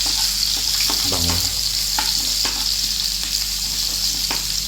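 Onion and then garlic frying in a pan, a steady loud sizzle running throughout with a few light utensil clicks and scrapes, up close and without talk.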